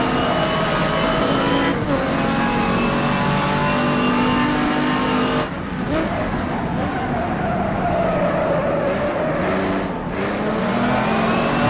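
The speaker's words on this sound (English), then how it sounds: "here comes the Porsche" A Porsche race car in a historic GT race at Brands Hatch roars continuously near the microphone, engine revving and shifting through gears as other cars drone past, with brief dips where throttle lifts.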